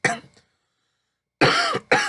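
Three harsh coughs: one near the start, then a pause of about a second, then two loud coughs in quick succession, close and forceful.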